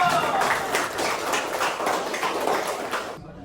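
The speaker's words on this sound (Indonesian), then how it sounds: "Tepuk tangan untuk maju." A class of students claps together in rhythmic group applause, steady and fairly loud for about three seconds before stopping abruptly.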